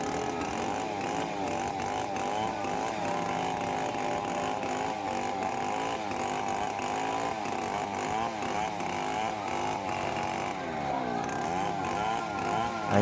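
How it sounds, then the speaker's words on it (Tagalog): A chainsaw runs continuously close by, its engine whining and straining steadily as it cuts through hard wood, with no talk. "Ayan si Manong Bobot, yan ang chainsaw operator namin."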